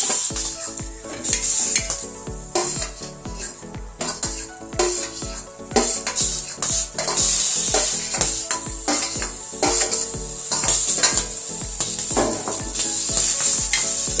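Pigeon pea beans being dry-roasted in a pan, with busy rattling and scraping from stirring over a light hiss, close and fairly loud throughout.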